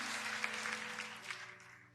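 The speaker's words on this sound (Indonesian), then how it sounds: "Sekali lagi tepuk tangan yang paling dahsyat, tepuk tangan yang paling" A church congregation at a Sunday service claps together in a brief, moderately faint round of applause that tapers off toward the end.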